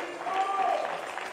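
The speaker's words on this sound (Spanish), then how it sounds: "Dale un aplauso al Señor con todo tu corazón." Church congregation at a Spanish-language worship service clapping briefly, with the applause moderately loud and brief under and around voices.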